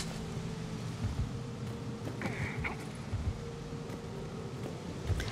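A swarm of bugs in Mass Effect 3 gives off a steady, low, dense buzzing that holds throughout, with faint flutters and small ticks on top and no voices.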